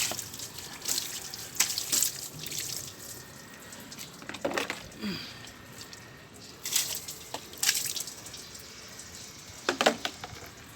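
Running water rinses the engine bay of a 2017 Mitsubishi L200 during an engine wash, with irregular bursts of spray and splashing over a quiet trickling background.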